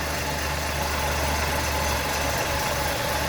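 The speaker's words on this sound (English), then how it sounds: "want to show you how smooth this engine runs" A 1970 Chevrolet Bel Air with the 250 Turbo-Thrift six idles steadily and smoothly at close range, a continuous even rumble with no one talking.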